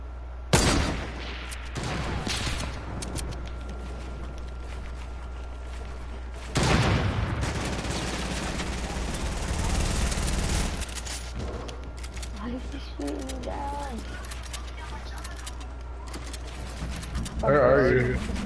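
Gunfire in Fortnite comes as a few loud bursts with quieter shots in between, under a steady game background, with players talking over it.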